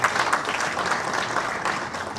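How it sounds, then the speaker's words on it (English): A conference audience at a state-of-the-nation forum gives a panel sustained applause, an even wash of many hands clapping with no voices. "Can we give another big round of applause to all of us?"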